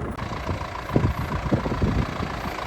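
A John Deere 6120M tractor engine runs steadily with a new weeder hitched on the back, a close, rumbling mid-low drone with small knocks and rattles rising over the continuous hum.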